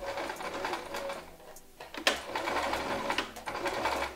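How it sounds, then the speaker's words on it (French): A sewing machine stitches a zipper topstitch, starting with a short backstitch: close, fast mechanical whirring in bursts, with a brief pause and a sharp click partway through. "On va venir hop, faire un petit point d'arrêt pour démarrer."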